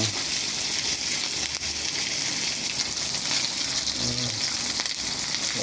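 Steady crackling sizzle of galunggong (round scad) fish frying in hot oil, continuous and close, with no talking over it.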